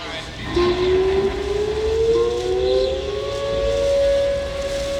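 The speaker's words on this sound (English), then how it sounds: "you can hear the warning sirens in an atmospheric bubble" A tornado warning siren wails with a long, slowly rising tone over a constant background rumble, sounding distant and atmospheric.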